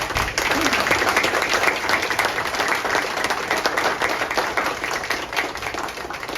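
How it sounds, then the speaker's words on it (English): Applause at a City of Litchfield, Illinois city council meeting, a small room of people clapping steadily for several seconds, fairly close and even, tapering slightly at the end. "Let's give it a round of applause."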